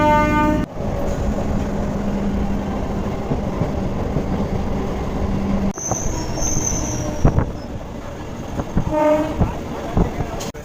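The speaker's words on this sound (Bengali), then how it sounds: "ট্রেন এই মুহূর্তে এসে পৌঁছালো উত্তর চব্বিশ পরগনা হালিশহর" A local train running between Halisahar and Naihati in North 24 Parganas, with loud close rumbling, squealing wheels, rhythmic clatter and a horn blast, with a voice heard briefly.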